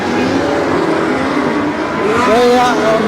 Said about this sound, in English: keeping the noise of his car on the outside of Whiting's car